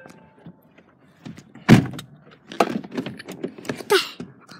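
Car doors on a parent's prized car being opened and shut, a few sharp thunks and clicks with mechanical whirs in between, close by, with no talking.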